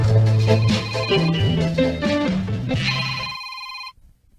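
A mobile phone rings in a Filipino drama, its electronic ringtone chiming in steady bursts over background music before cutting off abruptly into silence.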